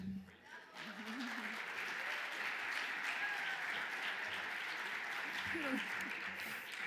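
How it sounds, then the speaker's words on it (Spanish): Audience applause welcoming a moderator at a green hydrogen regulation panel in Chile, a sustained even clapping that builds within the first second and stays steady, with faint voices briefly audible underneath. "a quien pido recibamos con un gran aplauso"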